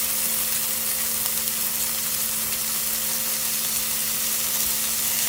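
Ground beef patties fry in a hot pan, giving a steady, even sizzle with a constant crackling hiss and a faint low hum, with no talking.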